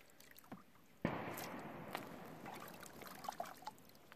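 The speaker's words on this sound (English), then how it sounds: "Dirty mag. Rinse it out." Water splashes and trickles over a dirty Glock G22 pistol magazine being rinsed, starting abruptly as a steady close wash with small knocks and drips over it.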